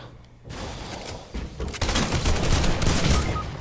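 Gunfire in a shooter video game, heavy sustained volleys of overlapping shots that start abruptly after a quiet moment and grow louder and denser, with no voices over them.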